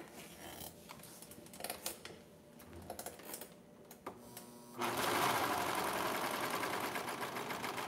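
A sewing machine stitches together the ends of a folded knit neckband, with a few light clicks and handling sounds before the motor starts. It then runs as a loud, steady, close whir for the last three seconds.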